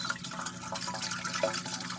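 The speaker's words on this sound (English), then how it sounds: "Can you see the water dripping?" Water dripping and trickling steadily through an aeroponic vertical garden, a continuous close wash of falling droplets with no voices.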